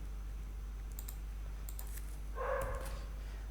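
Scattered keystrokes on a computer keyboard give a few light, quiet clicks, then a denser cluster of taps toward the end over a steady low hum.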